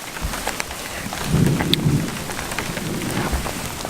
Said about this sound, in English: Still hear the thunder rolling over.